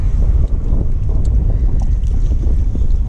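Wind buffets the microphone on a boat out fishing, a steady low rumbling roar that runs without a break and without any talk.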